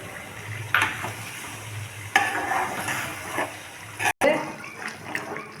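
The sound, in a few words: tamarind extract added to brinjal biryani gravy, sizzling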